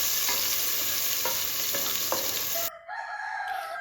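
Steady, loud sizzling of onion frying in hot coconut oil in a pressure cooker, with occasional stirring clicks, fading abruptly near the end.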